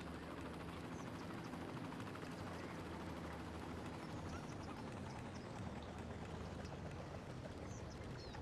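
A helicopter in the Cities: Skylines city-building game gives a steady, loud rotor and engine drone that stays constant and unbroken, with no voices over it.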